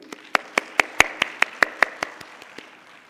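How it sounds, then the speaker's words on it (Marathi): About a dozen crisp, evenly spaced claps sound in a steady rhythm, close and clear, then grow softer and slow down toward the end, with no talking. "या विद्यार्थ्यांकरता टाळ्या झाल्या पाहिजेत"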